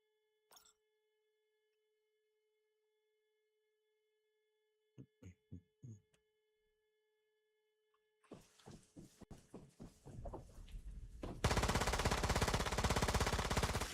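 P90 fire in the game Once Human starts with a few sparse, isolated shots. It then breaks into rapid automatic bursts that build into a loud, continuous stream of gunfire near the end.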